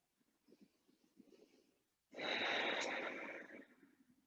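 Slow, controlled breathing close to the microphone: a soft, faint inhale is followed by a much louder, longer exhale lasting about twice as long.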